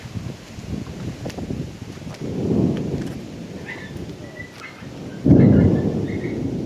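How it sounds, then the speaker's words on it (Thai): Low rumbling thunder rolls through steady rain at a rural canal-side home in Samut Songkhram, Thailand, with a louder, closer crack and rumble near the end; the rain hiss continues throughout. "ฟ้าร้องจริงๆด้วย"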